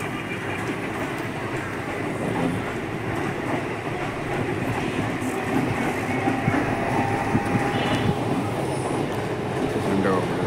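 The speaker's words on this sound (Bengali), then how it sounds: "স্টেশন ছেড়ে ট্রেন বেরিয়ে যাচ্ছে কলকাতার দিকে" A train pulls out of the elevated Kalinarayanpur Junction station toward Kolkata, a steady rumble of wheels and carriages with faint squeal, heard from nearby below the platform amid background chatter.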